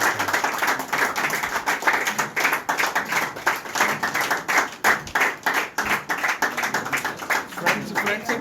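A small group claps at a cricket kit award ceremony held at a residence, with loud, close, uneven hand claps in a quick patter that swells and dips over eight seconds.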